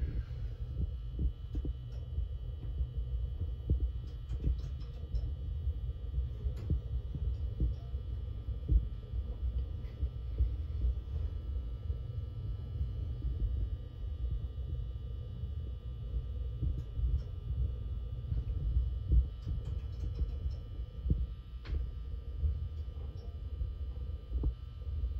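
A 1960s Burlington Dover hydraulic elevator in Newark, New Jersey, fitted with a replacement motor, gives off a steady low hum and rumble, with faint ticks and clicks scattered over the drone and no talk.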